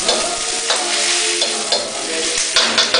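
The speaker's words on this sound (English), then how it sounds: "Shove in the yellow peppers" Yellow peppers sizzle steadily in a hot frying pan while a spoon stirs them, with scraping strokes rising over the constant crackle at close range.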